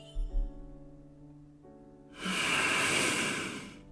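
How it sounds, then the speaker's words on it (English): A sleeping character in a game breathes with one long, steady hissing exhale that follows a quiet musical tone, close and clear with no talk. "I lean closer and slowly become aware of his steady breathing."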